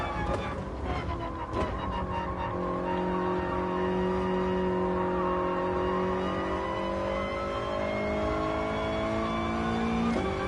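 A Toyota race car engine in Gran Turismo Sport drones and revs steadily at the Tokyo circuit, its rising and falling whine loud and continuous, with faint tire noise and no speech.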